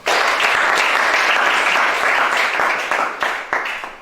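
Congregation applauding at a church service, a dense, sustained roar of clapping from many hands that stays loud throughout and tapers slightly near the end.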